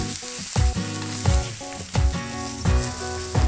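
Ribeye steak sears in a hot pan for a beef pepper sauce, a steady loud sizzle and crackle of fat with repeated clunks and scrapes as the meat is moved and stirred, no voices.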